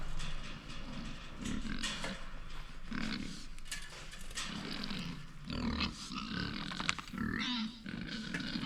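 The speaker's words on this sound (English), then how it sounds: "Moose and Mouse and Trouble are going to be pressing on this gate here because they know it's time to eat" Feeder pigs press against a gate at morning feeding time, grunting and snorting continuously at close range with overlapping low calls and occasional louder squeals.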